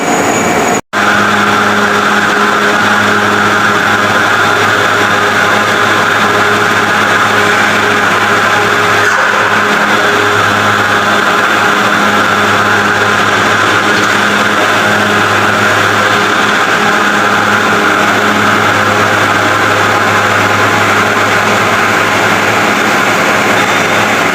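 A large industrial machine runs at a workplace, producing a loud, steady drone with a constant hum and whine that holds unchanged from start to end, broken only by one sharp click near the beginning.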